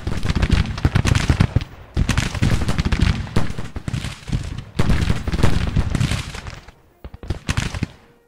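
Massed rifle fire from Civil War troops in a strategy battle game, crackling volleys in loud sustained bursts with short lulls between them, ending in scattered shots.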